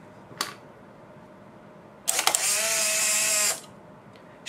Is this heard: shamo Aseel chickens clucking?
no